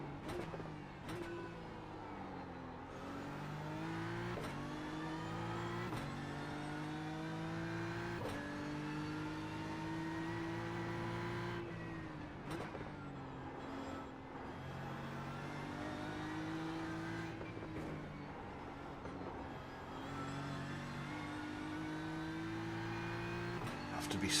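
A race car at the Nürburgring 24 Hours accelerates hard through repeated gear changes, the engine note climbing and dropping in steady cycles, loud and continuous for the whole stretch, no talking over it.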